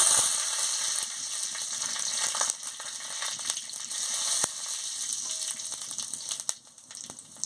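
Panch phoron and dried chillies dropped into hot oil in a kadai, a loud close crackling sizzle that holds steady with a few sharp pops and settles slightly toward the end, no talking.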